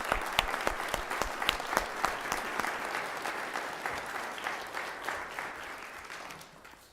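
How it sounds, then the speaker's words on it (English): Steady applause from a crowd at a city council meeting, with sharp individual claps standing out, fading down toward the end. "Let's give those young people a round of applause."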